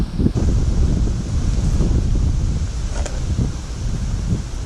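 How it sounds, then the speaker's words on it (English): Gusty wind buffeting outdoors beside the River Ribble with a steady wash of rain and water noise, a loud, continuous rushing with occasional knocks. "Even though it's really wet and windy, I'm right enjoying myself."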